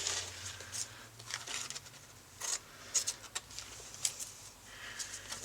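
Scissors cut through clear page protector plastic in a few crisp snips and crinkles, close and fairly quiet, with soft rustling between cuts.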